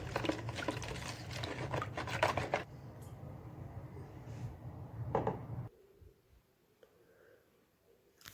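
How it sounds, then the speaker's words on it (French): Batter being stirred with oil and baking powder in a bowl, a close rustling, scraping mix that runs in dense bursts, pauses, returns briefly, then fades to near quiet. "je mélange bien"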